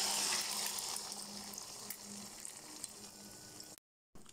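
Four eggs poured together into hot oil in a pan, bursting into a loud, bright sizzle that slowly settles into steady frying crackle before cutting out abruptly.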